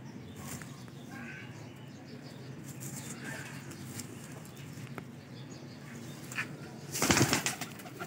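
Baby pigeons of a Lahore fancier's breed, cooing softly and rustling, with a burst of wing flapping near the end; faint background murmur throughout.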